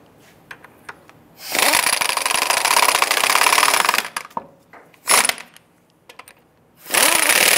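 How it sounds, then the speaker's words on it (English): An impact wrench or power driver snugs down the lug nuts on a 2002-2008 Dodge Ram 1500 front wheel. It runs in loud, sustained bursts with short pauses between them, and there is no talking. "Let's go ahead and get all of our lug nuts started by hand. Once we have all these on, we're gonna go ahead and snug them down."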